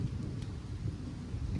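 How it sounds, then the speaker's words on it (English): Steady outdoor wind roaring and gusting at low pitch, a continuous rushing bed with no clear voices. "Oh yeah, wind's picking up."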